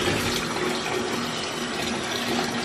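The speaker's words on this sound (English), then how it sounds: "So let me just pour it in." Liquid is poured steadily into a spiritual bath, a continuous close splashing rush of water without pause.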